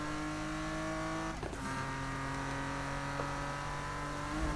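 Car accelerating in the Need For Speed video game, a steady, loud synthetic engine drone rising in pitch, with a quick gear-shift dip partway through before climbing again, heard alone.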